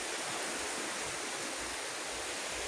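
Steady, rushing wash of ocean surf on a long, open sandy beach in the morning, a continuous broad roar with no distinct breaks and no voices.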